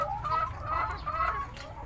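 Laying hens in a poultry coop clucking in a steady busy chorus with a low constant hum beneath, the birds close and fairly loud.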